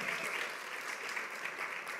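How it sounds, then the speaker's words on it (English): Steady applause from a church congregation, clapping continuously and fairly loud throughout. "round of applause"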